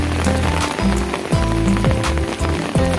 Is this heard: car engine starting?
no